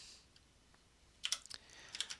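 Typing on a computer keyboard, a few soft, faint key clicks in a short burst against a quiet background.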